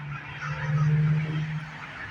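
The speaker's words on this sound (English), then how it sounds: "Even the birds are freaking out." Agitated birds, apparently geese, honk continuously in a dense, restless chorus at moderate distance, with no talking.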